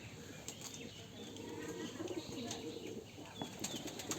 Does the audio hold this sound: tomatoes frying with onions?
no